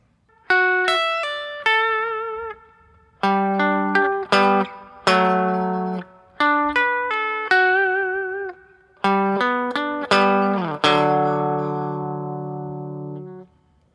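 Electric guitar plays an intro riff, bright picked notes and ringing chords in bursts with short pauses, ending on a long sustained chord.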